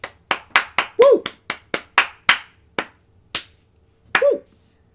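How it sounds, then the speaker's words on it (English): A small handful of separate hand claps ring out at a presidential address, sparse and uneven rather than a full crowd, with a cheering voice calling out twice between them. "let's give them a round of applause"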